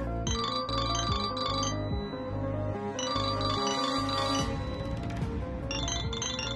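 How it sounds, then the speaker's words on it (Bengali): A phone ringtone plays late at night in a Bengali TV serial scene, a bright repeating chiming melody in bursts with short gaps, fairly loud and with no one talking over it. "এত রাত্রিবেলা কার ফোন?"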